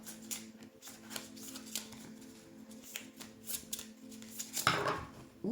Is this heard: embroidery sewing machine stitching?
no